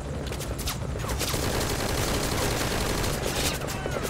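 Sustained bursts of automatic gunfire and a fusillade of shots from a firefight in the video game Metal Gear Solid V: Ground Zeroes, dense and loud throughout with faint voice underneath.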